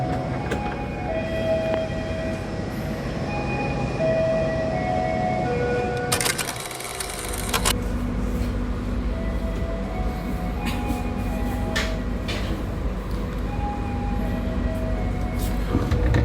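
Continuous low rumble of the Parahyangan train departing Purwakarta station with a steady mechanical hum, broken midway by a short burst of hissing noise.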